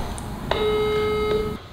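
A single electronic phone tone sounds as an outgoing call is placed, a steady beep of about a second, clear but fairly quiet over a faint room hum.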